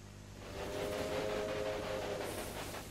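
A freight train in the Railway Empire game, set in Great Britain and Ireland, rumbles steadily with a low hum and faint squealing tones, moderately distant and with no talk.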